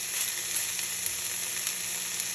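Stinging nettles stir-fry in a cast iron pan, giving a continuous, even hiss and crackle of sizzling heard close up with no voices.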